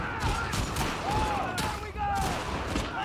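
Gunfire in The Last of Us Part II, with dense bursts of shots running continuously at close range under a loud battle mix, and some talk woven in.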